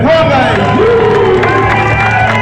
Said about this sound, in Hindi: एक बार जयपुर के लिए ताली हो जाए।